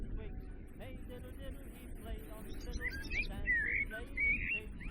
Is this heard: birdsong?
yes